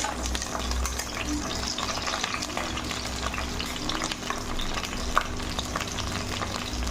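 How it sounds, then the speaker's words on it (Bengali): Pointed gourd pieces frying in hot oil with a bay leaf, a dense even sizzle with light stirring scrapes throughout, close and moderately loud, no voices. "আর পটলগুলো দিয়ে দেবো, পটলগুলো ভেজে নেবো"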